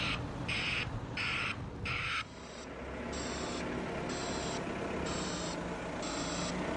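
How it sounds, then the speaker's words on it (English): Brigade BBS Tech broadband reversing alarm sounding a steady pulsing hiss-like broadband beep, repeating about every half second, loud and close over a constant noisy background. "the BBS Tech back alarm makes a sound like this."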